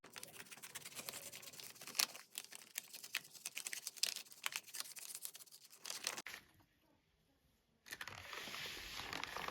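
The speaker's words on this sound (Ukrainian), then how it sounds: "Ось такий у нас другий пакетик. Розпаковуємо." Crinkly paper and plastic rustle and tear in quick, irregular bursts as a gift bag is unpacked close by, with a short near-silent pause before the crackling resumes.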